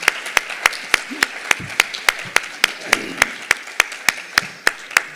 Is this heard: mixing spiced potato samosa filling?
no